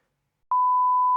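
A single flat electronic censor beep, loud and steady for under a second, starting abruptly after a short silence.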